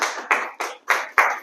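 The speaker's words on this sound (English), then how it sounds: "I'm clapping for me, bro." A single person claps their hands five times in a steady, even rhythm, each clap sharp and close with a short decay before the next.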